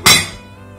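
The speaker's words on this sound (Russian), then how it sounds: "Накрываем крышкой и так готовим еще 20 минут." A single bright clink as a lid is set onto a cast-iron pot of braised meat with mushrooms and vegetables, followed by a short metallic ring that fades within half a second.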